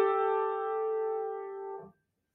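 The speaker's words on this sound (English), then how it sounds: "that's a harmonic second." Two neighbouring piano keys struck together as a harmonic second: one soft, clear sustained chord holding for nearly two seconds before a quick release into silence, with no voices.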